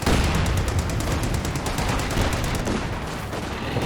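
Stuart light tanks and infantry trading fire in Company of Heroes 2, a dense, continuous clatter of machine-gun bursts and gunshots at steady loudness throughout, with no talking.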